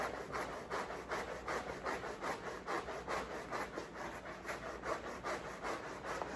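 A tube being cut by hand with a saw-like tool in steady, rhythmic back-and-forth strokes, close and fairly loud, with no talking.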